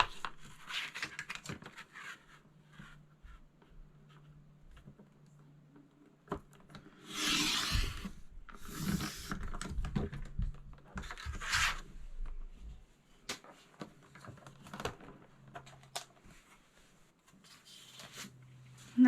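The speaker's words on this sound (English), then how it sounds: "I'm just going to trim it off" Embossed paper being trimmed by hand: quiet intermittent rustling and cutting sounds, a longer louder stretch of paper handling midway, then sparse small clicks and scrapes, close and soft, no talking.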